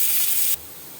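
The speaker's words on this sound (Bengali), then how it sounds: "এবার আমি পেঁয়াজটা ভাজবো তেলে।" Onions go into hot oil for a short, loud hiss of frying that lasts about half a second before dropping sharply to a low, faint background.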